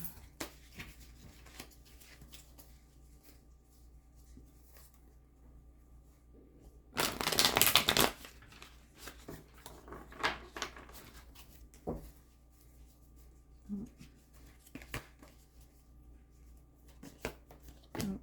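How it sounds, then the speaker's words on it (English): Tarot card decks are shuffled by hand in soft, quiet riffling and tapping, with one louder burst of rapid shuffling in the middle and scattered light clicks through the rest, no voices. "Let me shuffle these last two decks"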